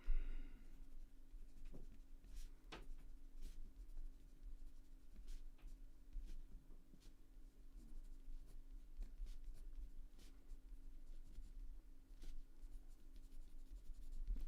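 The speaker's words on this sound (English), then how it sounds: "I'm just going to write this in." Pen writing on paper during a tabletop dice game, quiet scratching strokes and small taps spread unevenly across the stretch, close and faint with no talk.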